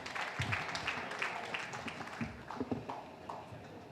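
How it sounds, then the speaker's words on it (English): Audience applause at a Rotary district conference, a dense patter of clapping spread through a large hall, steady and moderately loud with a few sharper claps standing out. "please give yourself a wide and big round of applause"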